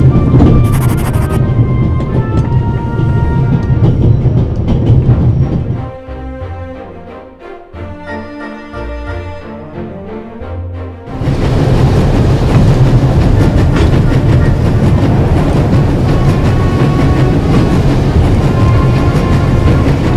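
A train in The Raven: Legacy of a Master Thief rushes along at full speed with a dense, steady rumble and rattle, dipping briefly midway before returning at full loudness.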